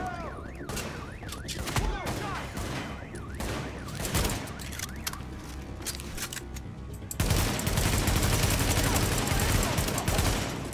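Gunfire rattles through a Tom Clancy's The Division firefight, with steady shots under game sounds and a louder, denser barrage in the last few seconds, alongside a faint alarm-like tone.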